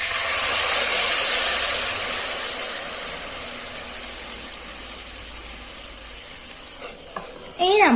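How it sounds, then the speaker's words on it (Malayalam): Melted jaggery syrup stirred in a pan with a ladle makes a steady scraping, sizzling swish that fades gradually, ending in a few sharp clatters. "ഇനി നമുക്ക് ഇത് നന്നായി ഇളക്കി യോജിപ്പിക്കാം."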